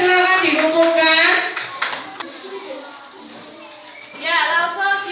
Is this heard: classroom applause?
yes